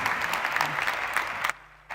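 An audience at a T3chFest 2017 talk on reinforcement learning applauds a volunteer after a pendulum demo, with brisk dense clapping that cuts off abruptly near the end.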